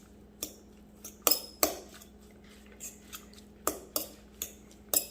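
A utensil mixes salmon croquette mixture with dried dill in a bowl, producing sharp intermittent clinks and taps against the bowl, close and fairly quiet with short gaps between strokes.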